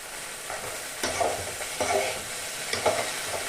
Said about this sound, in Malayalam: ഇളക്കി ഇളക്കി വഴറ്റി കൊടുക്കാം